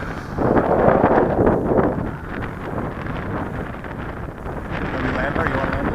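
Strong, gusty wind buffets an outdoor microphone at a model plane takeoff at Henryetta, a loud rumbling roar that swells and eases with the gusts.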